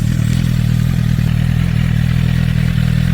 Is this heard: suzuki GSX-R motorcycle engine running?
yes